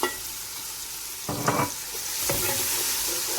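Ground crayfish fries in a pot of jollof rice base, a steady sizzle with two bursts of spoon stirring and scraping, no voices.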